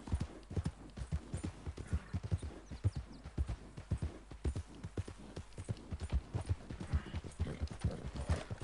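Steady clip-clop of horse hooves at a brisk riding rhythm in a Wild West video game, close and continuous, with an occasional faint snort and no talk over it.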